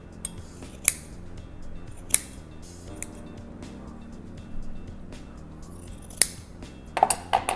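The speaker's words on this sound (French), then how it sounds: "Le ciseau a une excellente rigidité, donc vous voyez, y compris sur des tissus très fins, vous pourriez couper de la soie de manière ultra précise" Horl scissors slice through several layers of fabric in a handful of crisp, separate snips, each a sharp metallic close-up cut over a quiet room background.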